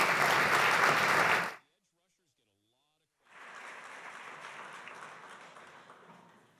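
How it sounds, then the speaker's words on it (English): An audience applauds a speaker at a regional recruiting talk, loud clapping that cuts off abruptly, a pause of silence, then a second softer round of applause. "So please give her a round of applause."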